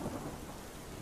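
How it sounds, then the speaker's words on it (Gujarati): Heavy downpour in Bhiloda taluka of Aravalli, Gujarat, with thunder rumbling, steady dense rain noise filling the whole short stretch, no voices. "ભીલોડા, રીંટોડામાં વરસાદ વરસી રહ્યો છે"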